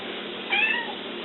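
A cat meows once, short and fairly close, in a home kitchen during cooking, against a quiet background hum.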